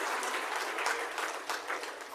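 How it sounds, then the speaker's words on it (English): Applause for the Artist of the Year at an awards ceremony: a dense, even wash of many hands clapping throughout, steady in volume and somewhat distant, with no voices. "Big round of applause one more time for our Artist of the Year"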